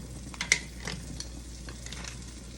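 Garlic frying in about a stick and a half of melted butter in a pan, a soft steady sizzle with a few stirring clinks and scrapes, fairly quiet and close.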